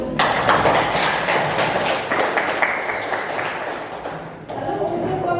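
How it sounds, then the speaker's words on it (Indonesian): Classroom applause for a student group, a steady crowd of hands clapping continuously for several seconds at close range, with a short break near the end and voices murmuring underneath. "Kasih aplaus untuk."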